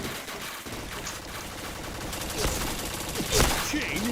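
Rapid bursts of gunfire from a first-person shooter video game crackle steadily throughout, with sharper shots standing out near the end, while a voice talks faintly underneath.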